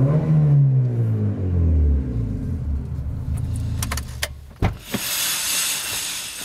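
A Mitsubishi Evo 8 engine with wrapped exhaust rumbles low and revs down, then settles to idle as clicks and a few sharp mechanical knocks follow nearby.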